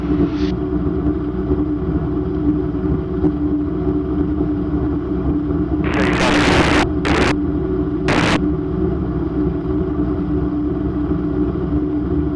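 A home-built Raptor prototype engine idles high above 1,000 RPM, a steady close drone, broken midway by a few sharp bursts of hissing noise.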